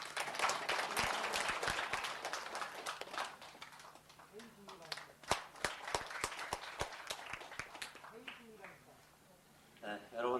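Applause breaks out at an awards ceremony for disability human rights, a burst of claps that thins into scattered sharp claps and footsteps, with a voice speaking over it.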